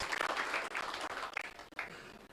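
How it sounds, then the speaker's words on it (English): Scattered applause from a small audience, uneven bursts of clapping at moderate distance. "Can we have a round of applause to our panelists?"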